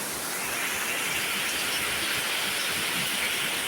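Heavy rain pours down in a dense, steady roar, loud and continuous with no break and no voices.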